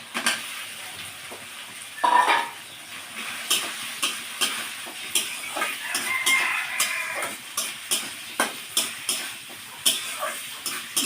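Green chilli, bitter gourd slices, potato and pointed gourd fried in spice paste for a fish curry, with a bubbling oily sizzle and repeated spoon-on-pan stirring clinks in a steady rhythm, no talking.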